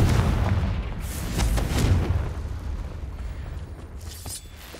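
Explosive Confringo spell blasts in the Hogwarts Legacy video game, a loud sustained rumble of booming detonations with sharp bursts near the start, heavy low-end and no speech over it.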